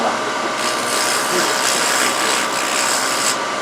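A wooden Christmas ornament spinning on a lathe while 80-grit sandpaper rubs against it, making a loud continuous raspy whir with a steady motor hum throughout.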